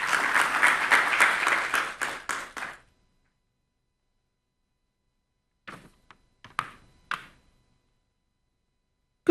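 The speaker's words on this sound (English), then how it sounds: "The great round of applause." Audience applause in a conference hall greets a speaker introduced as Chief Executive of the Ghana Export Promotion Authority, a dense burst of clapping for about three seconds that thins into scattered claps, falls silent, then returns as a few isolated claps.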